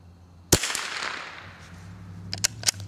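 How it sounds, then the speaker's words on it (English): .22 rifle firing Sellier & Bellot CLUB ammunition: one sharp, close crack that decays quickly, followed by fainter clicks and knocks of handling. "last shot here."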